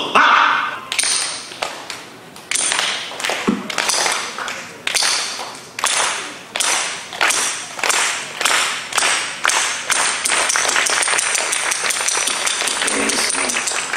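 An audience claps in unison with the sharp knocks of Hiyoshigi wooden clappers at a Japanese cultural festival in Peru: a steady train of loud, crisp claps that starts slowly and speeds into a continuous roll of applause.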